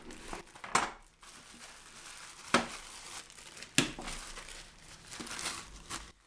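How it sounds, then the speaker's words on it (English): Plastic sealing strip being torn off a small product package during an unboxing, heard as several sharp crinkling rips and rustles at close range, with quieter handling noise between them. "Tear off sealing strip and take out the moisture packet before use"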